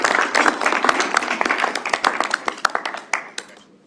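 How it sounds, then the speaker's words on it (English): An audience at a tech meetup claps for a speaker, dense clapping that thins into scattered individual claps and fades out over the last second. "Let's give him a round of applause."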